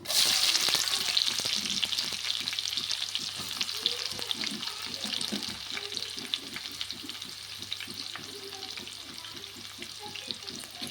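Onions fry for egg biryani in a pan, giving a steady close sizzle with repeated scraping stir strokes throughout, and no talk over it.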